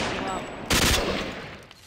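Gunfire in the zombie survival video game ApocZ: one loud, short burst of shots stands out against a muffled background.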